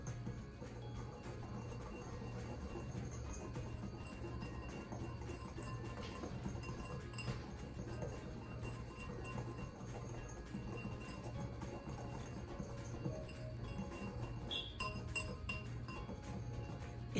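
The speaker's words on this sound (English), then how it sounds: "I have my whisk, and I'm gonna go ahead and do a little bit of mixing." A whisk stirs brown sugar seasoning for pork chops in a bowl, giving faint, rapid clinking and scraping against the bowl throughout, with a low hum in the background.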